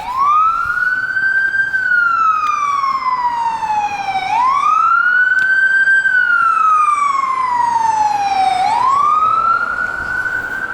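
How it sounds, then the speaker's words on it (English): A wailing emergency siren sweeps slowly up and down in long repeating cycles, loud and steady, with faint road rumble underneath. "sounds like some nighttime police or ambulance"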